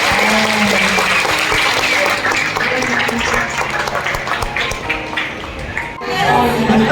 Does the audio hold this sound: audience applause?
yes